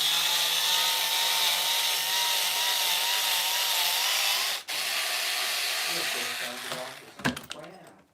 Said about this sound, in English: Your drill sounds like it's on its way out.